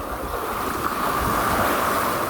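Ocean waves crash on a sandy beach with a strong undertow, a loud, continuous roar of broadband surf with wind noise on the microphone.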